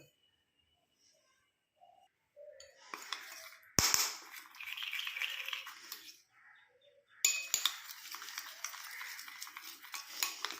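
Vaseline gets stirred into homemade hair dye in a bowl, with scraping, swirling mixing strokes and occasional sharp clinks of the utensil against the bowl, close and moderately loud after a quiet start.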